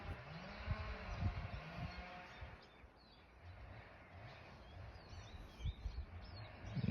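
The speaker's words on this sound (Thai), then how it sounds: "เสียงนก" Birds sing outdoors on a sunny, cold day in Sweden, with scattered chirps and calls heard faintly over a steady outdoor ambience and low rumbling background noise.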